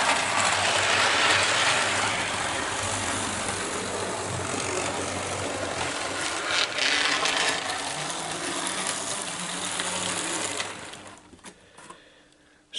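A model train locomotive and tender pulling a long train, heard as a steady close mechanical whirring and rattling of running wheels and gears that holds for several seconds and then fades away at the end.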